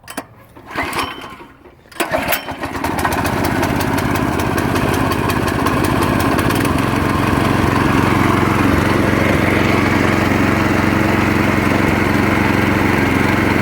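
A Yerf Dog 3020 go-kart's small engine, still fitted with its governor, sputters and catches after a couple of seconds, then settles into a loud, steady buzzing run that holds to the end.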